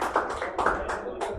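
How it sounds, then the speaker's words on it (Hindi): Children in a classroom clap for a classmate in a quick, rhythmic run of several close, crisp claps. "ताली बजाओ बच्चे के लिए"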